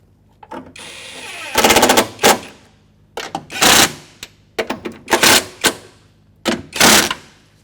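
A power tool tightening a mounting nut on a tow mirror being installed on a 2000-2005 Ford Excursion, loud rattling impact bursts of a second or so, repeated several times with short pauses between them.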